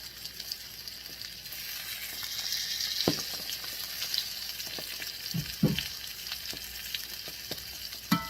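Blackened salmon fries in oil in a skillet, a steady close hiss and sizzle with scattered pops and a few utensil scrapes and taps, no talking.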